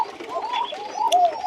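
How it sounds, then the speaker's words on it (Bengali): Coco pigeons coo on a pigeon farm, several soft, throaty warbling calls overlapping close by in a continuous rolling pattern. "অরিজিনাল অথেন্টিক কোকো কবুতর, টাইগার বাসিরাজ কোকো কবুতর, সাদা বাসিরাজ, কালো বাসিরাজ"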